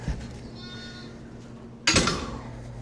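A sheep on a farm during lambing season gives one quiet, drawn-out bleat early on, followed by a short louder rustling clatter near the end over a low steady background hum.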